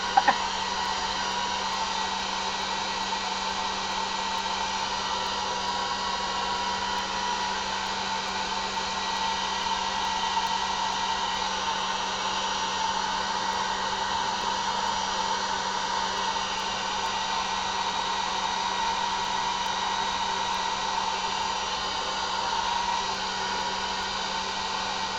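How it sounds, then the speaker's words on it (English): A hair dryer runs steadily for the whole stretch, drying alcohol ink on an art journal page, with a constant close, even whooshing drone and no talk. "Hair dryer."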